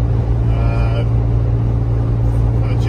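Ford Bronco with a 2.7 engine pulls hard while towing, a loud steady low drone of engine and road noise holding for the whole span, with a voice talking over it.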